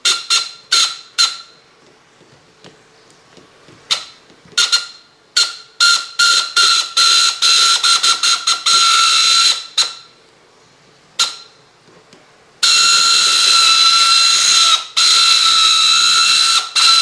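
A battery-operated Mego toy horse runs on a 9-volt battery with a small motor, giving a ratcheting, clinking mechanical whir. It starts and stops in short bursts, then runs continuously toward the end, close and fairly loud.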